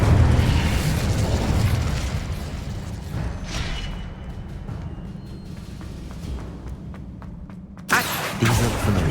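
Fire spells bursting in Hogwarts Legacy gameplay, rumbling blasts with crackling tails, heavy low roar fading gradually before a sudden loud new burst near the end.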